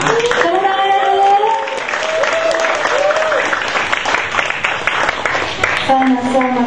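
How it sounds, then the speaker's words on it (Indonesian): A group claps at an office birthday celebration with a tumpeng rice cone in Indonesia, the applause steady and fairly close, with voices calling out over it throughout. "tepuk tangan dulu"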